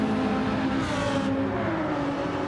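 A Ferrari racing car engine in a racing game at the Sao Paulo Grand Prix holds a loud, steady high-revving whine throughout, with a short rise in pitch partway, alone without talk.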